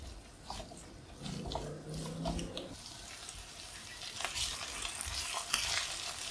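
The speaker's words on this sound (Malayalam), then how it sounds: "പൊട്ടറ്റോ ഒന്ന് നന്നായിട്ട് ഇതിനകത്തൊന്ന് കളറൊക്കെ മാറി ഒന്ന് ഏകദേശം ഒരു ഹാഫ് കുക്ക് ആവുന്നവരെ ഒന്ന് വഴറ്റി കൊടുക്കാം" Potatoes sauté in a pan for a cauliflower-potato dish, giving a steady close sizzle with scraping stirs and a brief clattering of the utensil mid-clip.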